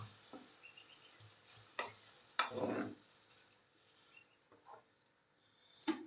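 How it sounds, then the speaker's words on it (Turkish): Garlic sautés in a pan with vegetables, a soft sizzle under sparse clicks and scrapes of a spoon stirring against the pan, quiet and close with a few sharper knocks. "Ben bunun içine sarımsak vereceğim de birazcık kavrulsun"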